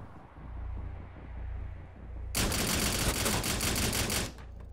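Rapid automatic gunfire from the video game Rainbow Six Siege bursts in loud and dense for about two seconds, then cuts off, following a quieter stretch of game ambience.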